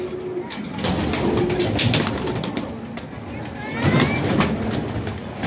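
Pigeons at a pigeon club coo and flutter close by, a soft rolling coo standing out near the end over a busy, noisy outdoor background with voices around.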